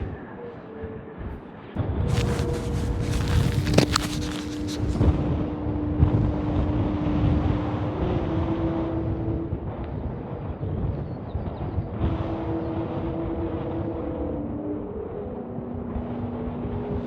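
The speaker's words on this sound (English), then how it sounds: "You can probably hear the wind." Wind blows outdoors around England's Singing Tree, a steady rushing roar buffeting the microphone, with faint sustained tones drifting over it.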